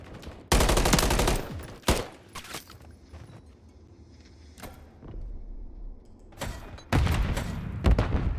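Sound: gunfight gunfire, from video game Call of Duty MW3

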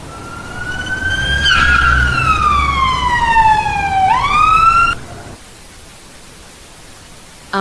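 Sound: police car siren

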